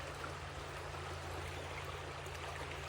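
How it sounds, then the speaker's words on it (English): Calm water flows gently outdoors among trees, a steady soft rushing wash with a low hum underneath, unbroken throughout. "There is nothing more beautiful than the sound of the calm water"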